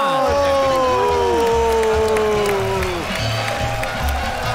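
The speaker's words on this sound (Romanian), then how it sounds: "un rând furtunos de aplauze" A comedy show audience bursts into applause and cheering, dense clapping filling the room while music and voices ring out over it near the start, the crowd noise continuing steadily to the end.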